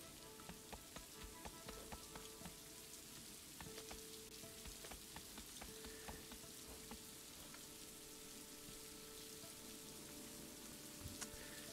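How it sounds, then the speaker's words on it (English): Steady rain in the video game Boundless patters on a surface with scattered distinct droplet ticks, a continuous soft hiss with no voices. "It's raining."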